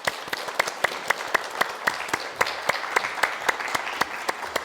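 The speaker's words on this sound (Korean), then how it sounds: "박수 부탁드립니다" Audience applause at a parenting talk concert in Daejeon, a steady crowd clapping with sharp individual claps standing out, close and continuous throughout.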